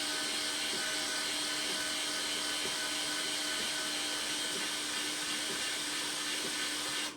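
A Silex MIG 160A welder feeds 0.6 mm wire, a steady whirring motor whine with a constant high hiss, unchanging until it cuts off at the very end.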